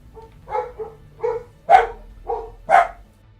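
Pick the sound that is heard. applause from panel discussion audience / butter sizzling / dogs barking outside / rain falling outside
dogs barking outside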